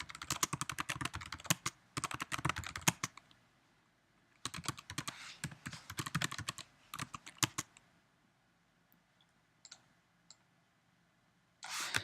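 Fingers type on a computer keyboard in quick bursts of crisp clicking keystrokes, pausing briefly between runs, with a longer near-silent gap before a final flurry; close and fairly quiet, with no voices.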